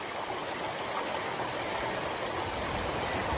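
Waterfall stream near Kakolem Beach, Goa, running down from the hills toward the sea, a steady broadband rush of flowing water, close and continuous with no voices.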